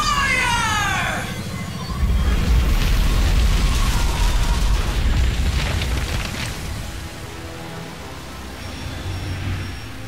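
Weapon fire in StarCraft II erupts into a long, rolling blast: a descending whine gives way to a loud, deep roar that slowly fades and rumbles on, with no voices over it.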